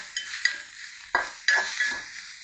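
A spoon stirs green chillies and other ingredients in a pot, giving several scraping strokes with faint sizzling underneath. The strokes come at an uneven rhythm and sound close.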